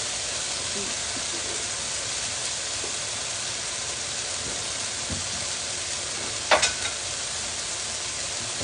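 Sausage and potatoes for a frittata fry in a pan with a steady broadband sizzle, a brief louder clatter of stirring near the end, and occasional faint voice traces underneath.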